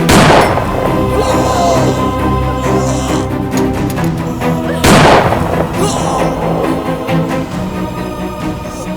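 Loud bursts of gunfire ring out, two sharp blasts about five seconds apart, each followed by a dense, echoing noisy tail.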